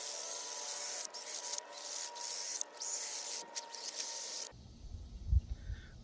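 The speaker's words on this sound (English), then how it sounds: "it's just at a perfect angle there on the stone, and so it just gives you a nice sharpened blade" A mower blade is drawn across a sharpening stone in repeated rasping, hissy strokes with brief gaps between them, close and quiet, then the scraping stops and faint low thumps follow.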